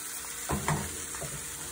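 Chicken pieces frying in a pan with bacon fat, a steady close sizzle with a couple of brief louder crackles as a piece goes in.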